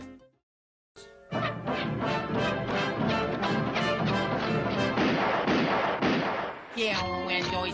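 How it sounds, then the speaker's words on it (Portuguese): Cartoon gunfire from a Bugs Bunny scene: after a moment of silence, a loud rapid string of sharp, evenly spaced bangs with ringing tones bursts close up, ending in a brief tonal flourish. "como o do Pernalonga atirando em indígenas enquanto cantarola"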